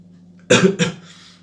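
Two sharp coughs in quick succession, close and fairly loud, followed by a faint breathy tail over a low steady hum.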